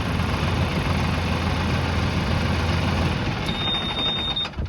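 A farm tractor engine runs steadily nearby on an ostrich farm, a continuous loud low rumble and chug that holds throughout, with a faint brief high whine near the end and no talking.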